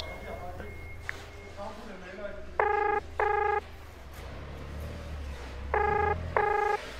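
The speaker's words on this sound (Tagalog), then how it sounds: "Teka nga, matawagan nga si Hana." A cellphone call being placed: paired bursts of electronic ringing tone repeat twice against a murmuring background, with fainter tonal beeps before them.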